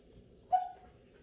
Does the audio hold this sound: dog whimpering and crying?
yes